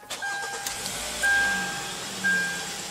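A 2015 Kia Sportage's 2.4-liter four-cylinder engine cranks and catches, then idles steadily with a faint electronic chime repeating in the background.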